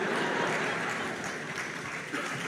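Moderate applause from part of a graduation ceremony crowd, a steady patter of clapping that thins slightly toward the end, with faint crowd murmur mixed in.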